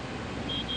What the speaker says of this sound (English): That's the alarm going off.